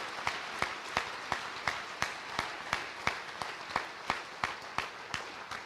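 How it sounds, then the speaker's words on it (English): Sparse, slow clapping at a Kansas FFA state career development event results ceremony, with single sharp claps landing roughly every third of a second, quiet and distinctly separate rather than a full ovation. "please give him an FFA round of applause"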